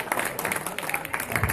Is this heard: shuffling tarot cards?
no